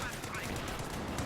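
Rapid, dense bursts of machine gun fire from Company of Heroes 2 battle action continue for the whole short moment and are mixed with other game sounds.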